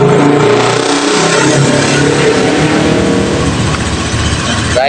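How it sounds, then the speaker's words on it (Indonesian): A Honda Beat FI ESP scooter engine, freshly assembled, runs loud and close, a steady mid-pitched motor drone that holds then eases slightly toward the end, with no talk over it. "Kemudian kita bakal melakukan engine on ya."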